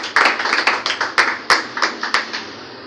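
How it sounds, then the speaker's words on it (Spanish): A church congregation claps for God during a Spanish-language sermon, giving a run of about a dozen sharp, fairly evenly spaced hand claps that ring out close and distinct. "Deben un aplauso a Dios"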